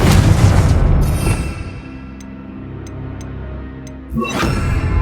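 Confringo fire spell blast in the game Hogwarts Legacy: a loud booming burst that rumbles and fades over a few seconds, followed by a second whooshing surge near the end.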